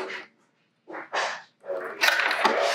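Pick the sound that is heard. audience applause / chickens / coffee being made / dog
dog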